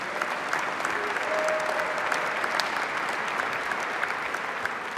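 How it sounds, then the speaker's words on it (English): A hall audience at a tribute-to-champions awards presentation applauds an honoree in a steady, even roar of clapping that holds at moderate distance throughout. "let's give a big round of applause and congratulations to Brian Kamens"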